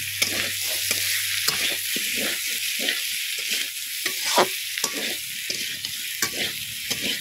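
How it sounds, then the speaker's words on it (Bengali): Potatoes stirred and fried in a pan for an Amla fish curry, salt just added: a steady sizzle with repeated scraping strokes of the spoon throughout, close and fairly loud, with no talking. "খুব সুন্দর করে আলুগুলো নেড়ে চেড়ে কষিয়ে নেব।"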